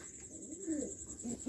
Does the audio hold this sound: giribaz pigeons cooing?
yes